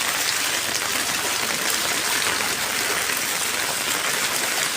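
Very heavy rain pours down in Nalasopara, a steady, dense roar of downpour hitting surfaces that holds at an even, loud level throughout with no voices.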